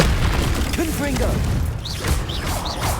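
A Confringo spell goes off in Hogwarts Legacy with a booming, mechanical-sounding blast amid busy combat noise, and character voices chirp and call out over it.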